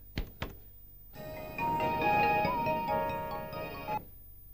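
A mobile phone ringtone plays a bright electronic melody for about three seconds after two short knocks, close and clear with no voices.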